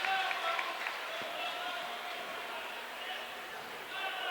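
Scattered crowd applause in a gym during a high school basketball game as a player returns to the court, fairly faint and steady beneath a commentator talking throughout.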